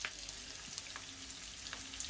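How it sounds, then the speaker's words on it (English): Steady crackling sizzle of chicken drumsticks searing in a hot frying pan, with scattered pops and spits throughout, close and continuous. "So I'm going to sear off my chicken drumsticks."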